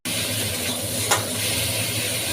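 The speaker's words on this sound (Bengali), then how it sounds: "আমি ভেজে নিচ্ছি মশলাগুলো" Spices for a soybean curry fry loudly in a pan while being stirred, a constant close sizzle with one sharp scrape of the spoon midway.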